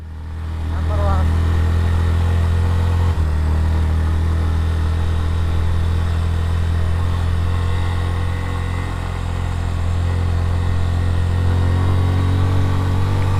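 Motorcycle held in first gear while climbing a steep uphill road on a bike tour to Sajek, its engine droning loud and steady throughout with a constant low rumble, and voices heard faintly alongside.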